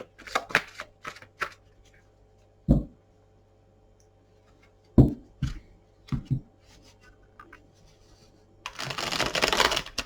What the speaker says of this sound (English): I have pre-shuffled the cards, Sagittarius, but I will do some more shuffling.